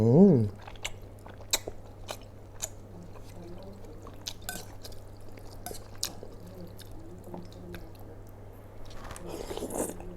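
Chewing crunchy food with Thai kuay jab noodle soup, soft close mouth crunches and wet squishes repeating at an irregular pace over a low steady hum, with a brief murmuring voice at the start.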